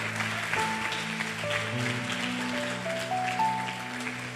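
Church congregation applauding during a service, steady clapping filling the room while sustained keyboard or organ tones play underneath.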